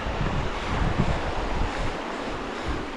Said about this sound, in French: Le voilà, le torrent de la Gita